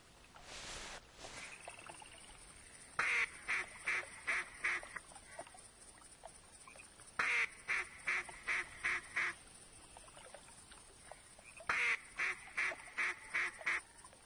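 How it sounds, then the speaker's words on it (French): Ducks quack in the hunting game theHunter, arriving as three separate runs of rapid, evenly spaced quacks, each run about five or six calls, over a quiet, faintly hissing background. "Ah, j'entends encore du canard."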